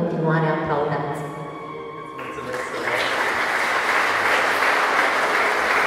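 Audience applause at an art exhibition opening in the Palace of Culture in Iași, a loud, steady crowd clapping that rises after a few seconds of speech and continues without a break to the end.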